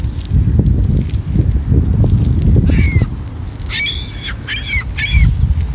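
Seabirds, likely seagulls, give a few short nasal calls in quick bursts toward the end, fairly near, over a low rumbling background of wind or handling noise.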